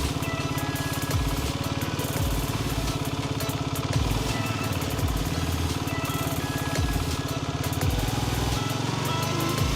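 A 125cc motorcycle engine runs steadily close by, a constant buzzing putter that holds a near-even level throughout, with no speech over it.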